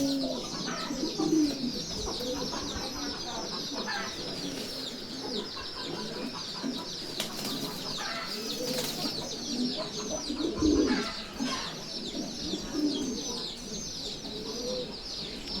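A flock of Giribaz pigeons coos continuously close by, layered low throaty calls overlapping throughout with wing rustles and occasional clucking, a voice faintly in the background.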